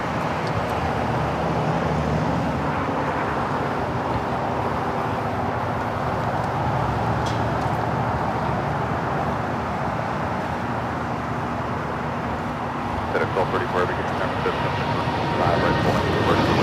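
An airliner takes off at LAX, a steady broad jet roar rumbling continuously at a distance, with traffic-like background noise and faint voices underneath.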